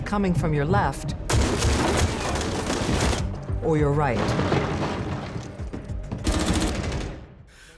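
Gunfire and explosions from the video game Rainbow Six Siege X: loud broadband bursts and rattling shots in several waves, with a voice talking over parts of it.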